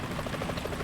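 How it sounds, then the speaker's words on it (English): Helicopter approaching in Metal Gear Solid 2 on a ship's tanker deck, a faint rhythmic rotor thumping, brief and steady, heard alone without talk. "Is that a chopper I just heard?"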